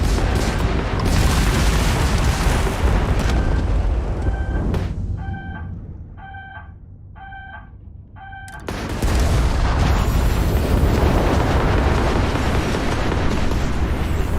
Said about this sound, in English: I'm shooting that fast fire.